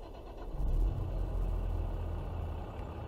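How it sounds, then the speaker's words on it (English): Tractor engine of a Zetor Crystal HD in Farming Simulator 22, a steady low rumbling idle with a slight rev swell early on, running alone at moderate loudness throughout. "let's hear the engine"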